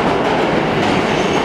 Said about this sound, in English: I think it is another M train.